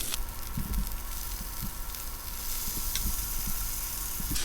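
Butter sizzling in a pan alongside seared filet mignon, giving a steady, fairly quiet hiss with light crackles throughout and no talking.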